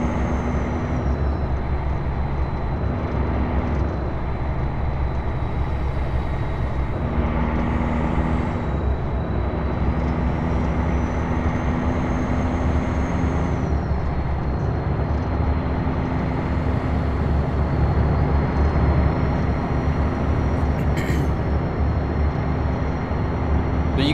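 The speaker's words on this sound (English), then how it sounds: "Are you guys able to hear the truck and stuff?" A truck engine drones at a steady, unbroken pitch while driving in the American Truck Simulator video game, with occasional higher tones over a constant road hum and no one talking.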